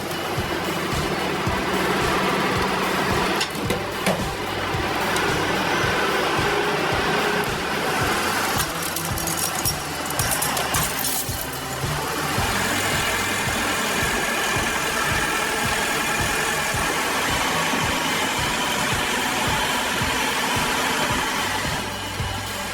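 A Ponsse Bear C6 forestry harvester fitted with an H8 harvester head runs its engine steadily at a logging site, a loud continuous mechanical drone with shifting load and some clattering throughout.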